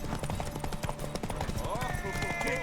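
In the video game The Witcher 3, a horse's hooves clip-clop in a quick, steady rhythm under loud talking voices, with other game sounds layered on top.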